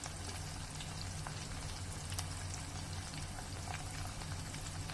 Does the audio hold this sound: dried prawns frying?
yes